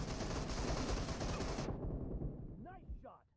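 Dense, rapid automatic gunfire from the PUBG Mobile video game rattles loud and unbroken for about one and a half seconds, then cuts off abruptly, leaving a short, faint game voice and fading sounds.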